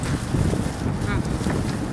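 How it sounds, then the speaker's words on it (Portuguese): Strong wind buffets the microphone outdoors at a food truck fair, a loud, continuous gusty rumble with faint voices mixed underneath. "Tá com muito vento, eu vou emitir a opinião dentro do carro."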